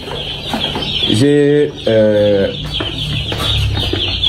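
Chickens in a poultry farm house cluck loudly and close by, with repeated drawn-out squawking calls rising over a constant background of flock chatter.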